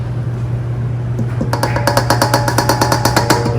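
An electric mixer beats whoopie pie batter over a steady low hum. Partway through it breaks into a fast, rhythmic mechanical knocking close by.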